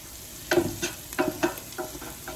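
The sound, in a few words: garlic and onion sizzling in a pot while being stirred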